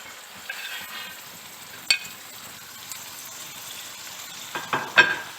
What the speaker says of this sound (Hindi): इसे भी हम 5 मिनट मसाले को भूनेंगे